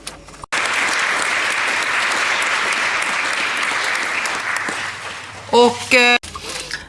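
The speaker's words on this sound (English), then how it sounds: "a warm applause to them" Assembly members at a Nordic Council session applaud the ministers, steady dense clapping that holds loud for several seconds, then fades as a voice begins speaking near the end.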